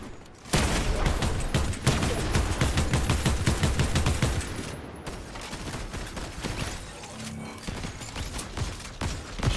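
Sustained, dense gunfire from a Fortnite match, with rapid overlapping shots and bursts running loud and close for several seconds before easing slightly toward the end.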